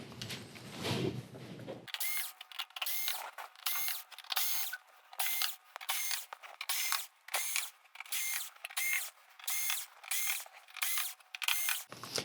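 Screws being removed from a Sony XBR-49X800E television with a small powered screwdriver, about a dozen short whirring bursts in a regular rhythm, close and clear with pauses between each, after a brief opening rustle.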